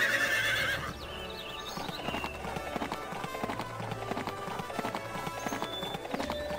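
Horse hooves clip-clop at a steady rhythm while a horse whinnies, all from the Barbie Riding Club video game, heard over a continuous music bed with no talk.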